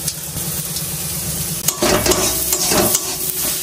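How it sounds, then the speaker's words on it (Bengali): Taro and potato pieces fry in mustard oil in a pan, giving a steady sizzle broken by a few close scraping stirs. "কচু আর আলু ভাজা ভাজা হয়ে আসছে"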